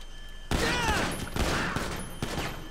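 A burst of rapid gunfire in the video game Grand Theft Auto 5, one loud sustained volley near the listener that ends in a second short crack, with no one talking over it.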